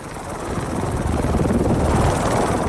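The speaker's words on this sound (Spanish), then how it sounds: "El helicóptero de la Policía Nacional fue parte del operativo para capturar a 3 de los involucrados." A National Police helicopter flying during an operation to capture suspects gives a steady, loud rotor roar that swells slightly, heard alone without speech.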